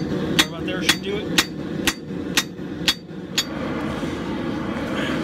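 Hammer blows on hot scrap steel while forging a scarf on a Viking axe: eight sharp, evenly spaced metallic strikes about half a second apart, then a low background hum.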